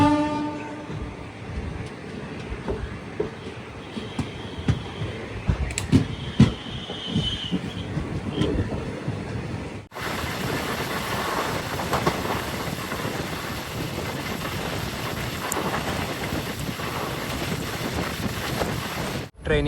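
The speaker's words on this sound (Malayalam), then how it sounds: "വാണിയമ്പലത്ത് നിന്ന് ഇതാ ട്രെയിൻ എടുത്തു." The Rajya Rani Express pulls out of Vaniyambalam station in Kerala, a steady rumble and clatter of wheels and wagons under wind buffeting the microphone, with a horn sounding early and the noise thickening as the train gathers pace.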